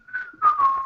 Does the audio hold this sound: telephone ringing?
no